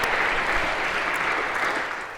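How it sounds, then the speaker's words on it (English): Lecture-hall audience at a CS50 cybersecurity class gives a round of applause for a student, dense even clapping that holds steady and tapers slightly at the end. "Round of applause for Presley."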